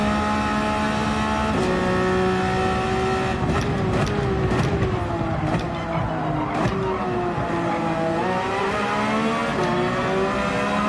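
Race cars driving on the Red Bull Ring in Gran Turismo 7, including a red Mazda, with engines revving steadily and a tire squeal near the middle, all close and loud throughout.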